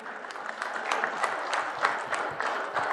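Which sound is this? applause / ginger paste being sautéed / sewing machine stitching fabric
applause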